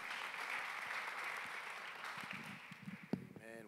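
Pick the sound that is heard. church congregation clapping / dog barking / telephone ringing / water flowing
church congregation clapping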